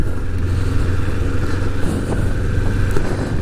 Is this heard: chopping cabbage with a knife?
no